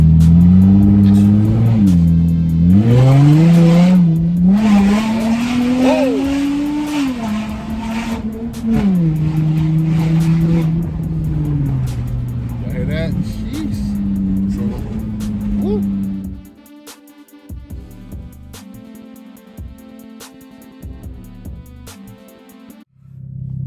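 A Chrysler 300 V6 with a 9-Drive throttle controller accelerates through its gears, the engine rising and dropping with each shift and loud inside the cabin, then settling to a low idle with clicks and faint rustles.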